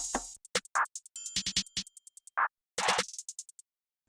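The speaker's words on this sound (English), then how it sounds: "My full percussion will sound like this." Percussion loop of a dark plugg type beat programmed in FL Studio, crisp drum hits and snappy claps or snares in a quick, syncopated pattern, dry and close with short gaps between hits.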